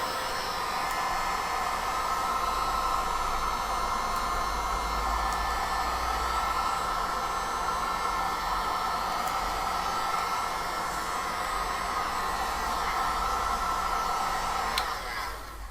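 A heat gun blows hot air over resin for a crystal tray, a loud, steady whooshing roar that runs unbroken for the whole stretch and tails off slightly at the end.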